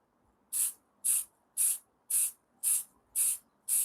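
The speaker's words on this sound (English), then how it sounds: "So we are spraying the shit out of him." Seven short, even bursts of aerosol spray paint hiss in a steady rhythm, each about a third of a second long with brief pauses between, while a Khorne Berserker miniature is coated outdoors. The bursts are close and clear, with no talking.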